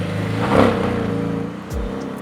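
A 2018 Porsche 718 Cayman's 2.5-litre flat-four engine revs and accelerates with a low, throaty hum, heard from inside the car, rising briefly then settling as the gear shifts.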